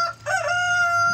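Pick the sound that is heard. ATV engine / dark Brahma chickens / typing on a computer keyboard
dark Brahma chickens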